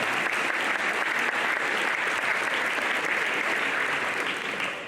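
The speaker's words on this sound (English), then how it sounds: "That deserves a big round of applause." An audience at a spring athletic signing event gives a big round of applause, loud and continuous, many hands clapping evenly throughout before it begins to taper at the very end.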